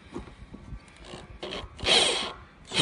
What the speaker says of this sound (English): We're using our 3/4 inch pipe tap to widen our hole to create some threads for our drain and overflow pipe assembly